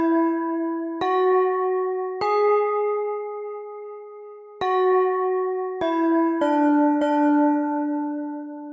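Bell-like instrument sample in a music mod: a sequence of clear, ringing struck tones at shifting pitches, each note sustaining and fading slowly, loud and alone without voices.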